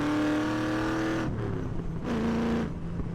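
A car engine revs hard while driving, its harmonic drone climbing in pitch, dropping briefly at a gear change, then rising again, loud and close with no talk.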